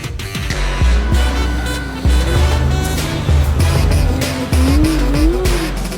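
A Porsche race car driving on ice at the 2020 GP Ice Race: its engine revs loud and close, rising and dropping with shifts around two seconds and again near four and a half, over a steady hiss of tires on ice.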